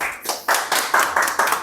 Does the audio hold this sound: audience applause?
yes